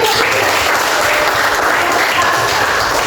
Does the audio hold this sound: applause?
yes